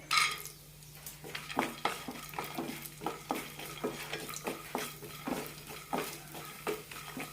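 A spatula scrapes and taps rhythmically in a pan as peanuts and roasted gram are dry-stirred in oil with cinnamon, clove and cardamom, repeated close strokes over a faint sizzle.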